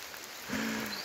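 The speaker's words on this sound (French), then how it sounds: "comme vous voyez il pleut" Rain falls steadily through a forest, a soft continuous patter on leaves and ground, close and even throughout.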